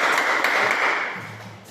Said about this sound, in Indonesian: Tepuk tangan untuk si Adek.